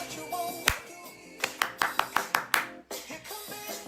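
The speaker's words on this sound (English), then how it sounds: "Clap along." Hands clap along in a steady run of sharp beats over faint singing and music, fairly close, with a lone clap near the start and a quieter stretch afterwards.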